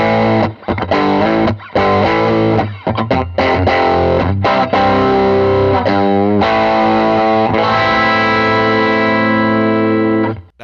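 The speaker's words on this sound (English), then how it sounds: "Next in the pedal chain is my 68 pedals King of Clone, which is an Analog Man King of Tone copy." Electric guitar played through a 68 Pedals King of Clone overdrive, a Chinese-made copy of the Analog Man King of Tone, giving loud, gritty driven chords and single notes with short breaks, alone.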